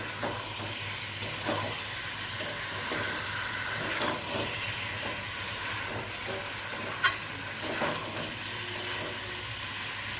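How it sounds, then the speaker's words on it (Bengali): Fried shol fish is stirred into spice masala in a pan for a rassa curry, giving a dense, continuous sizzle and hiss with occasional soft scrapes and knocks of the spatula, steady and fairly close, with no talk. "মাছটা দিয়ে ভালো করে মশলার সঙ্গে একবার কষিয়ে নিচ্ছি"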